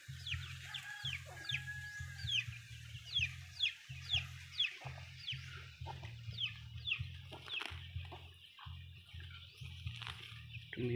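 Backyard chickens cluck and murmur in a steady, close chorus with occasional sharper calls, while birds chirp faintly higher up and no one speaks.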